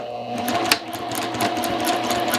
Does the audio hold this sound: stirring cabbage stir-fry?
no